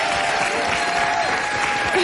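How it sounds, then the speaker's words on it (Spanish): A studio audience applauds a guest on a variety show, with dense, steady clapping at full volume throughout the brief moment. "Un gran aplauso para Janet Rodríguez."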